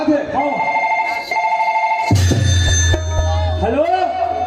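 A telephone ringtone sounds during a Chhattisgarhi nacha folk theatre performance: a repeating melodic electronic tone, then a sharp change to a lower droning hum with more tones returning near the end.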